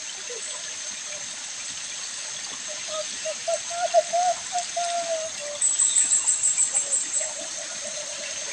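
Birds sing outdoors near a mound in the countryside, short repeated chirping phrases coming in bursts over a constant hiss of background noise, at moderate distance.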